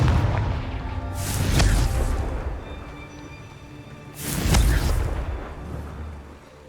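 Two heavy fiery blasts from the Confringo spell in Hogwarts Legacy, each a deep booming explosion with a crackling tail, spaced about three seconds apart and loud.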